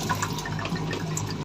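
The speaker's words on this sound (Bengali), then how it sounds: "বাসন ধোয়া হয়ে গেছে" Water runs steadily from a kitchen tap over dishes in a sink, a close, continuous splashing with small drips, cutting off abruptly at the end.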